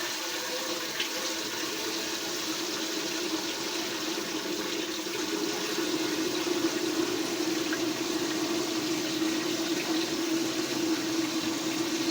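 Running tap water pours steadily into a kitchen sink while a spoon is washed, a continuous close hiss that grows slightly louder partway through, with no talk.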